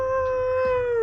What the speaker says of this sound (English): There are howls that are sounding out